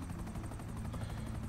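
A helicopter hovering in GTA 5 gives a faint, steady rotor chop with an even pulsing rhythm and a low drone underneath.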